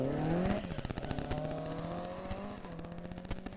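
A Darien rally car tears through the Curragh forest stage of a rally, its engine climbing through revs with a sharp pitch drop as it passes, plus rattly popping and crackle, loud and close with no talk.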